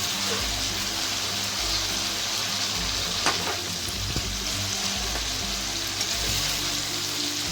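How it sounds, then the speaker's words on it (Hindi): Chicken nihari sizzles and crackles steadily in hot ghee with garlic, a constant close-up frying hiss with occasional pops and stirring clinks. "तो ये देखें निहारी फ्राई हो रही है"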